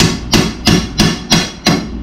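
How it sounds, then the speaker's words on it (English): Five evenly spaced, sharp hammer blows strike hot metal being bent, each a loud, close metallic clank ringing briefly before the next, with no voices. "Take your hammer."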